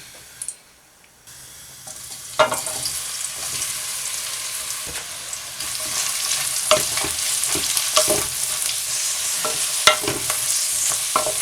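Aubergine pieces fry in hot oil for a curry, with a bright sizzle rising after a quiet start and intermittent stirring clatter against the pan.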